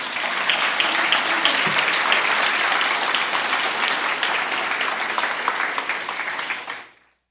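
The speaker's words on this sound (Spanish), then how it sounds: "dele un aplauso a Dios." Sustained applause from a church congregation fills a reverent service, steady and dense for about seven seconds before stopping abruptly.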